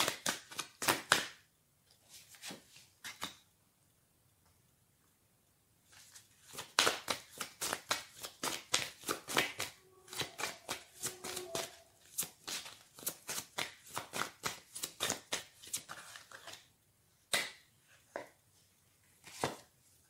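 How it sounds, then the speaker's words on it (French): Tarot cards being shuffled in quick bursts of crisp riffling and snapping, close and fairly quiet, with a silent pause partway through. "je continue à battre les cartes."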